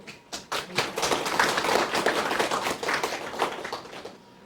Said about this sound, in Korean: 지금부터 천안의료원 보훈위탁병원 재지정 추진위원회 발대식을 여러분의 큰 박수와 함께 시작하겠습니다